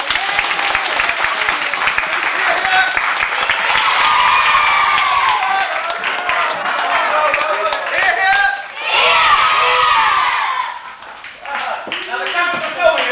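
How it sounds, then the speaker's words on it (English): A studio audience claps and cheers in a busy, loud burst, with many hands clapping under lively voices and shouts, the noise dipping briefly before swelling again. "Everybody clap, come on!"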